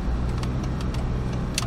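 Land Rover Discovery 2 engine rumbling steadily at low speed while parking in a car park, close inside the cabin, with a few faint clicks.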